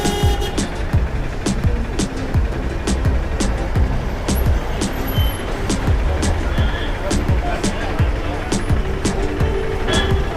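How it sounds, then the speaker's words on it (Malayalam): Busy Payyanur bus stand in heavy traffic, with a dense, steady roar of bus and car engines, repeated knocking and clattering, and faint beeps throughout, loud and continuous with voices mixed in. "എപ്പോഴും തിരക്കുള്ള ഒരു ബസ് സ്റ്റാൻഡാണ് കേട്ടോ"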